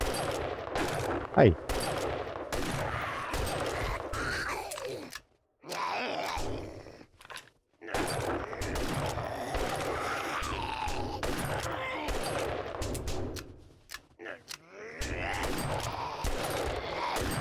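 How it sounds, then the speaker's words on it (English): Gunfire in the video game 7 Days to Die, with bursts of rapid shots and single cracks fired at close-range enemies, loud and repeated, mixed with game sounds, creature groans and brief pauses, plus a short spoken word. "We don't need to scope when they're this close, so we'll just shoot them"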